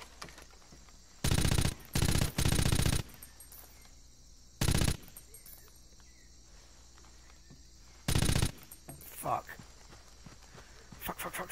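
Bursts of rapid automatic gunfire in Rainbow Six 3: Raven Shield, several loud clustered volleys separated by quiet stretches with soft footsteps and ambient noise.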